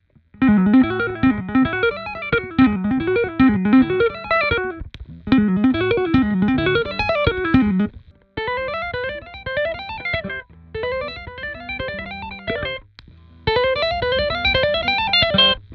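An electric guitar through a Keeley Compressor Pro pedal plays a string of bright, evenly compressed licks and runs in separate phrases, with short pauses between them.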